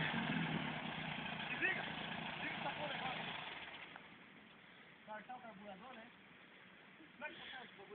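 A Volkswagen Beetle stuck in mud runs its engine with a low, steady idle that fades quieter midway, with a few faint knocks and voices near the end.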